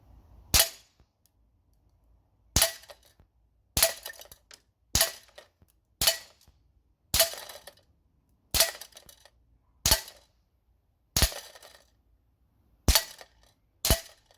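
An airsoft gas blowback rifle with its suppressor off fires about eleven sharp, loud single shots, spaced roughly a second apart, each a crisp crack with a brief ringing tail in an otherwise quiet setting.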